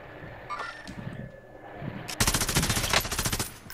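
Automatic gunfire in Modern Warfare Warzone, a rapid loud burst of repeated shots in the second half after quieter game sounds and distant pops.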